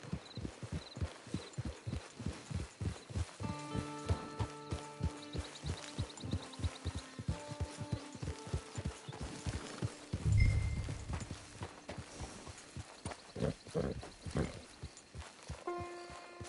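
Horse hooves clip-clop at a steady walking rhythm in Red Dead Redemption 2, close and clear, with game music and a brief thud mixed in.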